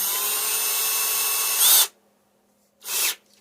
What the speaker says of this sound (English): Busting out some drill bits so I can pilot in some holes.